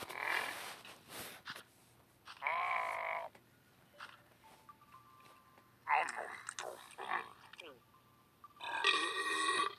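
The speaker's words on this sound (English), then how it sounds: "He did not have to burp." Cartoon character in the cooking game Toca Kitchen 2 letting out several short, gurgling burps after eating ramen noodle soup, spaced irregularly with a young voice speaking between them.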